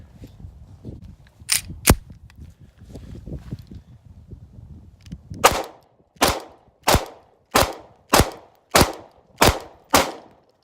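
Shots from a Taurus PT111 Millennium G2 pistol firing cheap basic ammunition: two sharp reports amid low handling noise, then a steady string of eight loud, evenly spaced gunshots roughly every half second.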